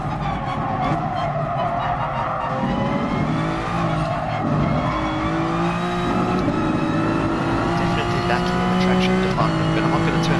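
A race car in Gran Turismo Sport holds a steady, loud engine drone that rises and falls as it shifts through gears on a flying lap, with tire noise. Someone talks over it throughout.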